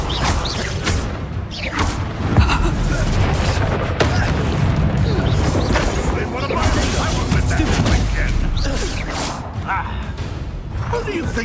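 Confringo blasting spells exploding in the Hogwarts Legacy video game, a dense, loud, continuous barrage of booms, crashes and whooshes with voices shouting over the combat.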